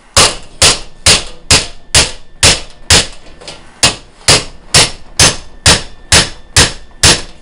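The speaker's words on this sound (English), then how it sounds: "also beat the edge down around it so that it lays flat" A hammer beating rivet edges flat on a round colony trap, with sixteen or so loud, sharp metallic blows close by in a steady, even rhythm, about two per second, with no voices.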